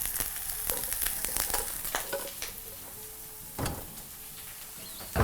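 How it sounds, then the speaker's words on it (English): Broccoli hitting a hot oiled pan for chilli beef sets off a soft, steady sizzle with scattered pops and a few clattering knocks, moderately near and without talk. "proceed to grab your broccoli and add to your pan"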